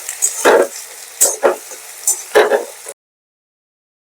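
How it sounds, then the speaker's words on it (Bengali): Onion paste fries in hot oil with stirring, heard as three loud, close bursts of sizzle and scraping separated by short pauses, then sudden silence. "পেঁয়াজটা ভেজে নিতে হবে।"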